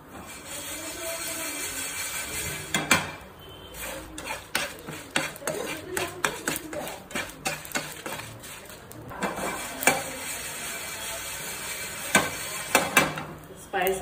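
Whole spices, including red chilies, peppercorns, cinnamon stick, cloves, green cardamom and bay leaf, dry roasting in a pan for a prawns masala, with repeated scraping and clinking stirs against the metal and a faint dry rustle throughout.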